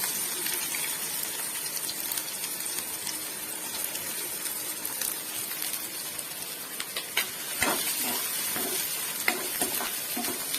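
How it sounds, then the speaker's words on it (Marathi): Onion and curry leaves frying in hot oil, a dense steady sizzle running throughout with occasional crackles and stirring scrapes, close and continuous with no talk. "गरम तेलात कढीपत्ता टाकून घेऊया आणि हा चिरलेला कांदा"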